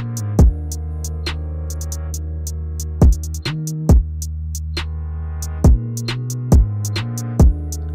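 UK drill 808 bass programmed in Reason with the Grain and NN-XT instruments, sustained deep sub notes sliding between pitches, punctuated by sharp hi-hat and snare hits in a steady beat, loud and alone.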